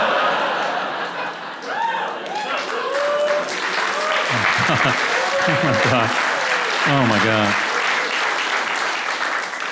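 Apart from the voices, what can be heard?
audience applause at comedy show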